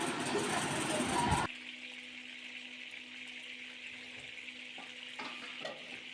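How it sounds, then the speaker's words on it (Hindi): Peshawari chapli kebabs frying in a pan, cooked on both sides: a loud, dense sizzle at first that drops abruptly to a faint, steady hiss over a low hum, with a few light clinks. "कबाब को दोनों साइड से हम अच्छी तरह पकाएंगे।"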